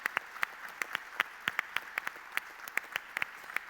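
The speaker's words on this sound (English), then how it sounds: "keep those applause going for our panel tonight, Jacob, Shanna, Dayne and Dan." An audience at an evening panel event on rethinking addiction claps together, a faint steady patter of many hands with sharper individual claps standing out, and no voices.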